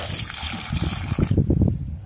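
Thin liquid fertilizer pours from a container onto chrysanthemum plants, a short gushing, splashing stream close by that fades and breaks into dribbles.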